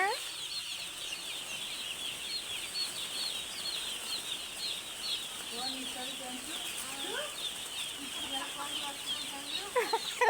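Chicks clucking and cheeping in a farmyard, repeated short calls scattered throughout at moderate distance over a constant background hiss, with a few wing flutters.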